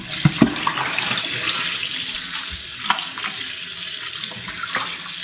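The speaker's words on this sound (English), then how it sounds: "just rinse them out and now in the soak in cold water like this" Tap water runs steadily into a sink as beef short ribs are rinsed, with occasional knocks and splashes from handling, no voices.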